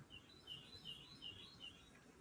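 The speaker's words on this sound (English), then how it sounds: "Now all I hear are the birds." Birds chirping outside an open window on a morning, a string of short, faint high tweets repeating at a steady rhythm against quiet room ambience.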